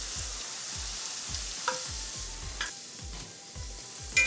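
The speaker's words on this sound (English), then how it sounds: "potatoes in to the hot oil one by one" Potato chip slices frying in oil at about 375 degrees, a soft steady bubbling hiss with a few light clinks and a regular low thumping pulse underneath, close but fairly quiet.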